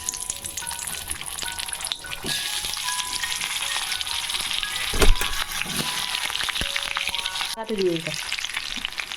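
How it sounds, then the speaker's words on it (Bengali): Whole onions sizzle and crackle steadily in hot oil, with occasional stirring clatters and a louder bump midway; no voices. "প্রথমে আমি এই গোটা পেঁয়াজগুলোকে হালকা করে ভেজে নেব"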